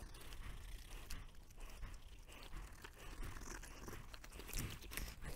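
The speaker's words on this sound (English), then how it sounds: "you have my dog chewing the tree" A dog chews on a tree outdoors, with quiet, irregular crunching, tearing and gnawing sounds close by.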